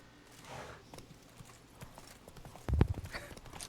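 Hooves of Roach, a horse in a video game, clip-clop in a light trotting rhythm, faint at first and then a louder cluster of steps near the end, with no voices.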